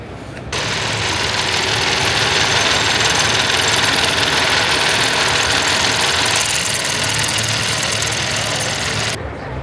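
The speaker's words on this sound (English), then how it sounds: "That's a proper drag engine." A loud, steady drag racing engine roar with a rough, rapid knocking texture, running continuously at close range with no speech, at the SEMA 2024 show.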